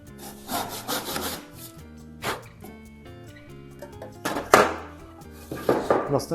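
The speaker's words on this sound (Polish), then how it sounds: "Grzbietnica to jest ta piła tutaj z takim dodatkowym prętem nabitym na grzbiecie, stąd nazwa." A backsaw rasps through oak in uneven strokes, close by, with a few louder bursts of cutting toward the end.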